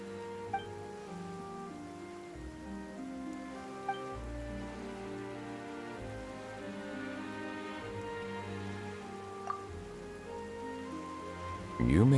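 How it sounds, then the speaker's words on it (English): Rain falls in the video game Genshin Impact, a soft steady patter under sustained background music, with a few faint isolated drops and a brief louder sound at the very end. "Why is it raining all of a sudden?"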